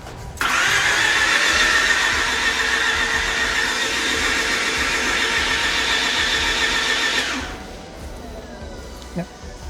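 Mazda RX8 rotary engine being cranked by the starter, a loud, steady whirring grind that goes on for about seven seconds before cutting off, leaving faint background sounds.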